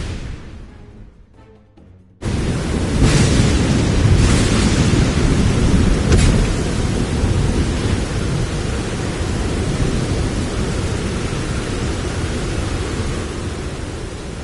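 A thunderstorm at sea in a PS4 video game opens after a quieter stretch with a sudden loud crash of thunder, followed by heavy, roaring rain and wind that stay dense and steady.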